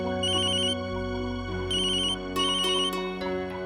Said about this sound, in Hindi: विशंबर का फोन